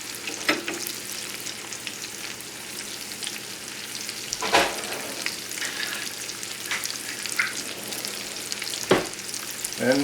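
Radishes sizzling and frying steadily in a pan after vinegar is added for a glaze, with a continuous crackle, occasional stirring clatters and a few sharper bursts, close and alone without talk.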